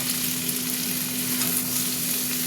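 Capsicum and mixed vegetables fry in a hot pan with a steady, close sizzle and occasional stirring scrapes, with a constant low hum underneath and no voices.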